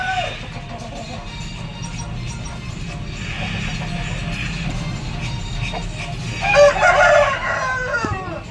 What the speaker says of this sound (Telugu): ఇది తెల్ల కోడి